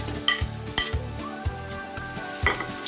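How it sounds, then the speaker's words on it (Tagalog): Vegetables for ginisang gulay with bagoong isda and kalabasa sizzle steadily in a hot pan, punctuated by about six sharp scrapes and clanks of a spatula stirring against the metal, close and fairly loud. "Gigisa lang muna yung mga ingredient."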